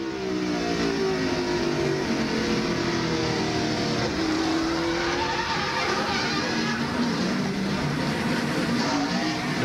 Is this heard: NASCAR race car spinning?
yes